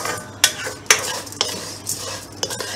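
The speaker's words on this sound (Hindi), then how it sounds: "सेवइयाँ भी थोड़ी सी हमने भून लेनी है इसके अंदर।" Colourful vermicelli is roasted in a pan, with a spoon scraping and clinking against the metal in repeated strokes over a soft dry sizzle, close and fairly loud, with no speech.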